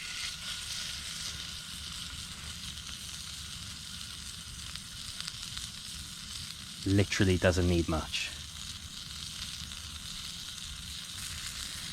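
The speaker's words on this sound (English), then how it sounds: "It's nothing quite like the sound of steak sizzling away on a fire, especially an open fire on a cast iron pan." Steak frying in a cast iron pan over an open campfire while wild camping in the Welsh wilderness, a steady hiss running throughout as a voice speaks briefly over it.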